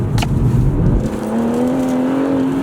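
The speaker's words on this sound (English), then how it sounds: "just listen to the delay of when I slam my foot down and when the car goes" A BMW M140i pulls away under hard acceleration, its engine note rising steadily in pitch as it revs, loud and close from inside the car, with no talking.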